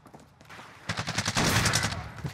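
Gunfire in Modern Warfare, with a 725 shotgun loaded with slug rounds in play: faint scattered shots, then a dense loud burst of rapid overlapping reports.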